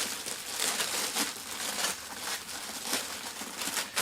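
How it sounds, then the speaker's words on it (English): Thin plastic bag crinkling steadily as an Epson EH-TW5700 home theatre projector is unpacked, a close, continuous rustle with soft swells and no voices. "The projector itself is protected by a basic plastic bag."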